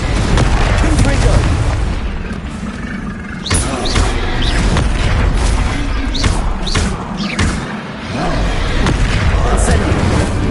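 Repeated booming Confringo spell blasts in Hogwarts Legacy, loud heavy thuds and explosive bursts firing in an irregular series alongside other spell effects.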